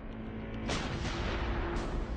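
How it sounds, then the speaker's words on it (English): An M777 howitzer fires a spotting round: a single loud, sharp boom partway in, followed by a long rumbling roll and echo that sustains to the end, with no talking. "The Marines start by firing a spotting round."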